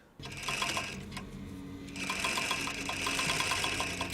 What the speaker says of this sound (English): It's on a sewing machine.